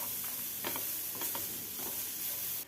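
Grated coconut being stirred in a hot pan for curry leaf chutney powder, a steady soft scraping with light sizzling and a few louder stirring strokes, close and alone.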